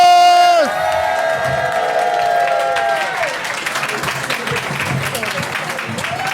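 A short musical sting fades into a comedy club audience clapping and cheering as stand-up comedian Nicholas De Santo walks on stage. The applause is dense and lively at first, with scattered whoops, then gradually thins.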